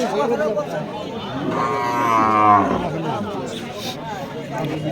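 A dairy cow with her young calf beside her lets out one long, loud, drawn-out moo nearby, while people chatter and a crowd murmurs in the background.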